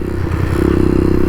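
Small W175-based 175cc chopper motorcycle without rear suspension being ridden, its engine a loud, close, throbbing drone with a brief clattering scrape at the start before settling into an even pulse.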